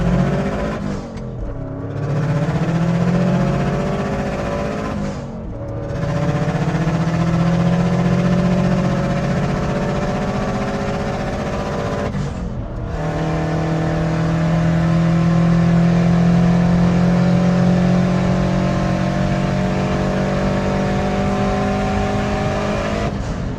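A tuned Subaru Impreza WRX pulls hard through the gears from a rolling start on a rural road, its engine rising loudly in pitch through three long runs with brief drops at each shift, heard close from inside the car without talk.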